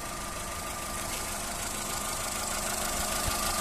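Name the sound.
VW Polo 1.4 petrol engine idling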